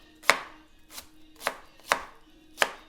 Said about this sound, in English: Alright, got our onion chopped up.